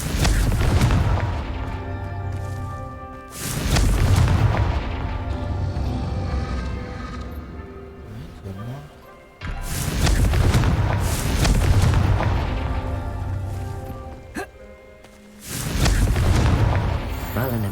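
Confringo blast spells in the game Hogwarts Legacy set off repeated deep booming explosions, about four heavy blasts with rumbling tails, spaced a few seconds apart.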